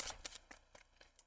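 A tarot card deck being shuffled, giving a short run of crisp riffling bursts in an uneven rhythm, fairly quiet and close with no talk.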